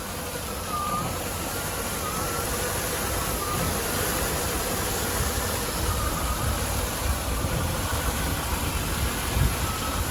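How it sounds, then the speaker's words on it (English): A recently rebuilt 4-litre V8 in a Land Rover Defender 90 50th Anniversary idles steadily, giving a low, even, quiet rumble with a faint hiss and no voices over it. "it's a video of the engine running on this recently rebuilt 4-litre V8 50th anniversary"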